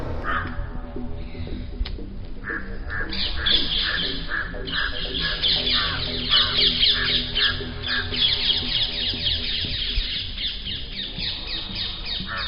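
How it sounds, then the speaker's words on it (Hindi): Crows caw loudly and repeatedly, their harsh calls overlapping in a noisy, continuous chorus with some chirping birds mixed in. "अब कौवों की तेज आवाज से जंगल की शांति भंग हो चुकी थी"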